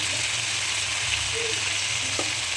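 Fish curry masala sizzles steadily in a pan as chili powder goes in, a constant close frying hiss with faint stirring clinks and no talk.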